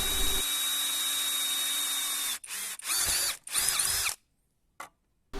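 A PUMPKIN 50438 16V cordless impact drill bores through material, a loud steady whine that breaks into several rough spurts as the bit bites, then stops with brief trigger blips.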